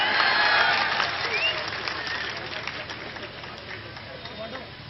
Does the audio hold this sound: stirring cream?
no